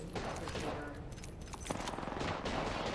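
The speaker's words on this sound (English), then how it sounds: "Shooting at me." Rapid gunfire and weapon effects in an online battle royale shooter, a dense, continuous volley of shots with scattered louder cracks layered under game effects and faint voices.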